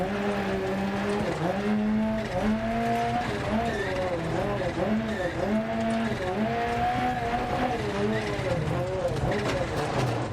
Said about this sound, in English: Here I also use the handbrake and a little bit of the clutch. Get a better slide.